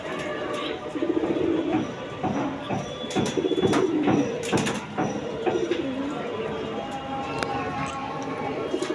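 Pigeons coo in low, repeated phrases close by, mixed with sharp clicks, bumps and scattered background noise; faint voices may be present.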